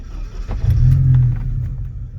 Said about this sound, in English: So as you see, the car starts right up